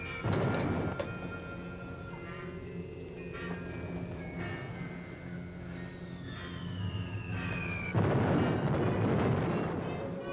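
Bombing explosions outside during wartime, a continuous deep rumble with low booms and a heavier surge near the end, muffled as if heard from indoors.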